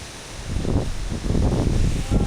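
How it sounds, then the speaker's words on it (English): Steady wind blowing on a hiking trail toward Gocta Waterfalls in Peru, a continuous buffeting rush with low rumbling gusts against the microphone and no voices. "it's so windy here"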